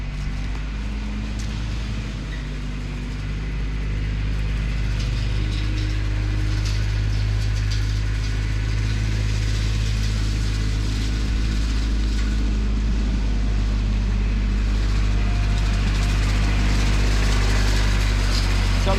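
A Kubota RTV900 utility vehicle's engine drones steadily while it pushes a load from a 50-inch Ohio Steel lawn sweeper, a continuous low rumble heard nearby with no talking.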